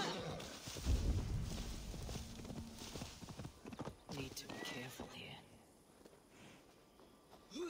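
A horse gallops in the video game Assassin's Creed Valhalla, with rapid hoof clip-clops, a whinny and breathing. A voice talks over the hoofbeats.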